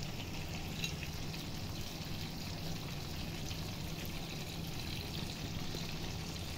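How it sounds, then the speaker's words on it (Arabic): Butter with a drop of oil melting and sizzling in a pan on the stove while making quick pasta, a steady even frying hiss close by that carries on without a break and with no talking. "هنحط بقى الزبده وعليها نقطه زيت بس عشان ما تتحرقش"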